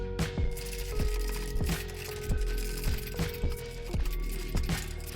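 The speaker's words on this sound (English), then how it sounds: "And then now we're just gonna start tightening." A ratchet tightening the front suspension lower control arm bolts on a BMW E39 M5, clicking in repeated bursts of quick pawl ticks with short pauses between strokes, close and clear.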